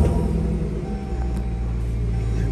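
A 2018 Jeep Trackhawk on 26-inch wheels idles with a deep, steady exhaust rumble, loud and close, with no talking over it.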